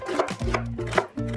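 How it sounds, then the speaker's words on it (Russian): A knife chopping onion into medium cubes on a board, about four distinct close chops in a steady rhythm over a low background hum, with no voices. "Лук режу средними кубиками,"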